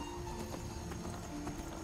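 A horse gallops in the video game Skyrim: steady, close clip-clop hoofbeats in an even rhythm over a continuous in-game background, with no talking.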